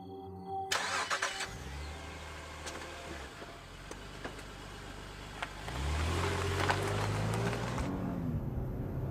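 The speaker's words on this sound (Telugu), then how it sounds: "కార్ స్టార్ట్ చేయరా" A car engine cranks and catches, then idles with a low steady hum. It cranks again near the end and revs up, loud and close, with no talking.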